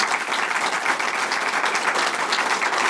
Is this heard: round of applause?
yes